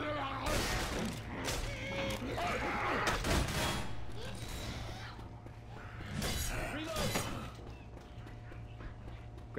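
Gunfire in the Left 4 Dead 2 video game while shooting zombies on the Dead Center map: dense overlapping shots and clattering impacts in a busy game mix, with voices talking over the action.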